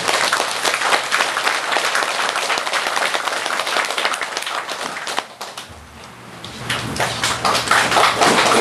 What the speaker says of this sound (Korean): 여러분 박수로 좀 맞아주세요.